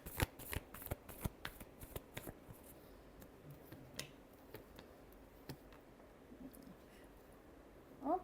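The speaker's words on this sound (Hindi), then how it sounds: "last shuffle" Tarot cards shuffled by hand in a quiet room, giving quick riffling bursts and sharp ticks that come close and fairly loud early on, thin out to sparse taps, then pick up again with a final flurry.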